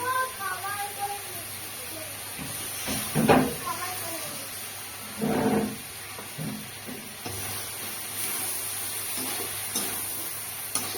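A pot of bottle gourd sizzles softly while rice flour paste is added and stirred in, with scraping strokes and brief louder sputters; someone talks over the cooking.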